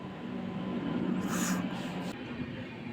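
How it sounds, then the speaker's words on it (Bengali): A steady low rumble of a train arriving at a platform on the Durgapur to Howrah route fills the air, with a brief hissing burst partway through and no voices. "ট্রেনটিও এর মধ্যে আসতে আরম্ভ করেছে"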